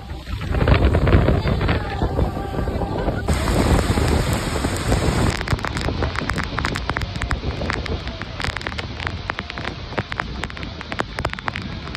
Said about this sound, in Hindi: बारिश हो रही है भाई, बारिश हो रही है।